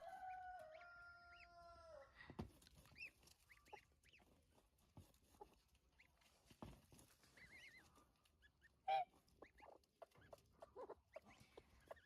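A mother hen clucks to call goslings over, with faint, scattered clucks and soft peeping chirps in a quiet farmyard, plus one louder brief call partway through.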